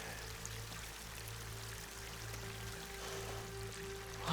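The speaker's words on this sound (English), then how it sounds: "Water's coming in." Water pours in steadily in Horizon Forbidden West, a continuous low rushing stream with faint trickling and dripping, quiet and unbroken with no talk over it.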